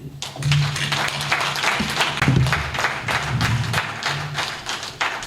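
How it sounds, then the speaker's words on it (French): An audience at a health talk in Cotonou claps at the end of a speech, a crowd of crisp, irregular hand claps with a low steady hum underneath. "Continuez d'applaudir, s'il vous plaît"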